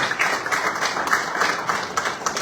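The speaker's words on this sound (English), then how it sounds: "You must clap hands for yourselves for coming." Audience at a public lecture clapping steadily for a couple of seconds, a dense patter of many hands at moderate distance, fairly faint.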